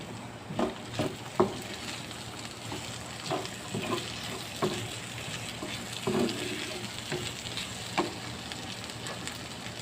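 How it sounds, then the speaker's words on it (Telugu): Onions frying in oil in a pan until browned, a steady low sizzle with scattered crackles and pops throughout, fairly faint and without talk. "ఆనియన్స్ ఇలా బ్రౌన్ కలర్ వచ్చిన తర్వాత 2 టేబుల్ స్పూన్ వరకు ఆయిల్ వేసుకోవాలి."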